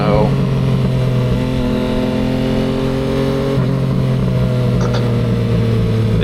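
A Yamaha XSR900 motorcycle engine holds a steady, loud rev during wheelie practice, its tone shifting slightly midway as the throttle changes.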